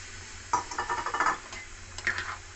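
Sago and lentil khichdi is stirred in a pot with a spoon, producing a short run of soft scraping and clinking strokes, then a brief second burst, close and quiet.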